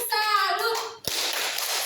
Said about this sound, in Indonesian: Tepuk salut untuk Arni